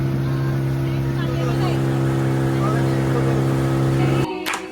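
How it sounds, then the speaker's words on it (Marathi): A motorboat engine drones steadily nearby as a boat arrives on the water, its low hum holding even before cutting out abruptly near the end, with some voices around it. "अजून एक बोट आली."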